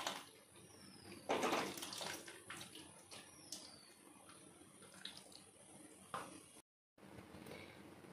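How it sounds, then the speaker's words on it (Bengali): Water sloshes and pours as boiled drumstick leaves are drained, with bursts of splashing, clatters of a pot or strainer and a brief dropout, all faint and close with no talk. "জলটা ঝরিয়ে নামিয়ে নেবেন।"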